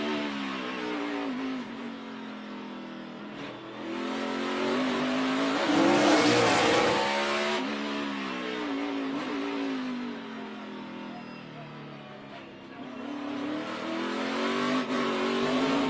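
A 2014 NASCAR Sprint Cup race car on a qualifying lap, its engine droning loudly and shifting pitch, surging to a roaring pass midway before settling back into a sustained high-speed whine.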